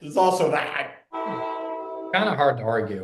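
A train horn sounds in one sustained, steady blast lasting about a second, with people talking over the clip before and after it.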